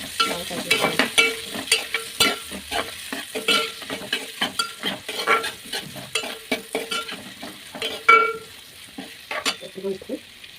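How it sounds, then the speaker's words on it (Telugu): Chopped onions and green chillies frying in a pan for a brinjal and dried prawn curry, a close crackling sizzle broken by quick, repeated spatula scrapes and knocks in an uneven rhythm. "ఇప్పుడు ఆనియన్స్ ముక్కలు, అలాగే పచ్చిమిర్చి ముక్కలు వేసి బాగా ఫ్రై చేసుకోవాలి."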